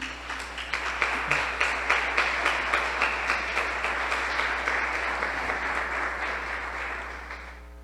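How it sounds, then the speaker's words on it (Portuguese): A church congregation applauds in a steady, dense wash of clapping that lasts several seconds before fading slightly at the end. "Aplauda Jesus por isso."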